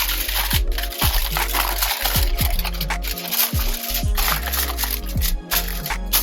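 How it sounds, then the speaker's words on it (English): Aluminum foil is torn from the roll and pressed into a baking pan, giving close, crinkly rustling with repeated sharp tearing rips and a few soft thuds over a low steady background hum. "Lining our pan with aluminum foil."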